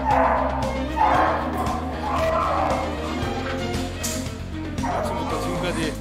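Many puppies gathered for vaccinations at a crowded rescue site yip, bark and whimper continuously, with overlapping high cries under a busy hum of voices.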